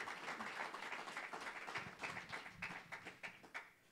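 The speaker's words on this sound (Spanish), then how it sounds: "Denle un aplauso al Señor." A church congregation applauds, a soft, fairly distant patter of clapping that rises and then thins into a few scattered claps.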